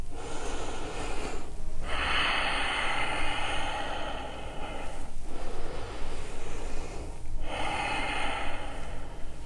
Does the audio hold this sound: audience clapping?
no